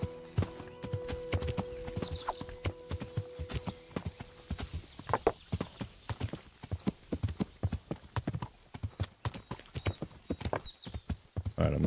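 Horse hooves clip-clop at a steady riding gait in the medieval game Kingdom Come: Deliverance, close and rhythmic throughout, with a faint whinny and some steady tones early on.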